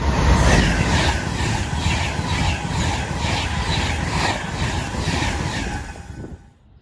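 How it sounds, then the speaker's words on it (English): An Avanti West Coast Pendolino express train from London Euston to Glasgow Central rushes through Acton Bridge station, a loud sustained roar with rhythmic wheel clatter from passing carriages that fades abruptly at the end. "Passing through now is going to be Avanti West Coast Pendolino running from London Euston to Glasgow Central."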